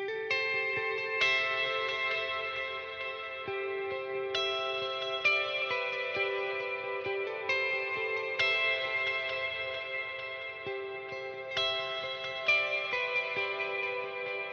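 Electric guitar through a stereo delay with added ambient reverb on a Line 6 Helix, playing clean picked notes whose echoes repeat and trail off into a washy, spacious tail, moderately loud with no talking.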